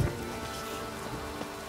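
Steady rain falls in the Toussaint region of The Witcher 3: Blood and Wine, a continuous dense patter that stays even and moderately loud with no voices over it.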